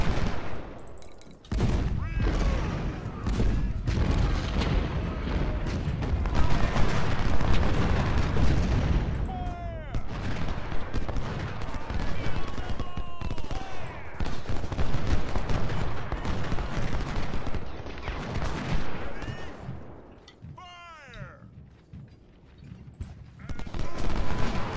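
Musket volleys and artillery fire in a video game battle of the Thoroughfare Gap, heard as continuous dense rolling gunfire and booming cannon blasts, loud and sustained, with battlefield shouts mixed in.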